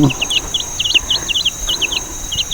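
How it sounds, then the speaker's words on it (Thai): A hawk calls again and again in quick, high, sharp chirps, spread steadily across the clip over a quiet rural outdoor background. "แถวนี้เสียงเหยี่ยวเยอะด้วยนะ"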